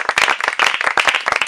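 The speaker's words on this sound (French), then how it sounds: "Acclamons Jésus" A church congregation applauds during a worship service, with dense, continuous clapping from many hands that stays loud and steady throughout.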